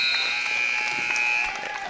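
A long, loud electronic buzzer blares steadily across a high school basketball game in a gym, sustained for nearly two seconds over crowd noise before easing slightly.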